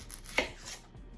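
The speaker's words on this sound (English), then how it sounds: "I'll be chopping that onion" A knife cuts through an onion on a cutting board in a home kitchen, one crisp close chop followed by a lighter tap, with no talking.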